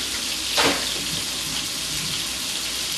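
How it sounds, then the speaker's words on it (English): Steady broadband rush of cold tap water running over rice in a sink, with a brief louder splash early on, continuous and close. "Take it over to the sink and run cold water on it"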